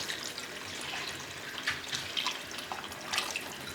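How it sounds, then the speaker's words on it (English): Tap water running steadily into a soup pot of vegetable beef soup, a continuous close splashing rush for several seconds with no talking. "I'm gonna go ahead and add a little bit of water to this."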